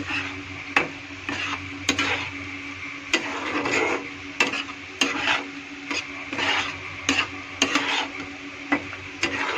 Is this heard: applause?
no